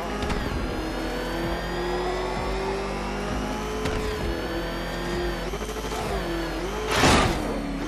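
A ramshackle car engine revs in Batman: Arkham Knight, holding a steady mid-pitched drone with shifting pitch and a sharp burst of noise near the end.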